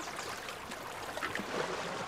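Water flows and trickles through the narrow Aflaj irrigation channels of an Omani village, a soft, steady gurgle, quiet and close.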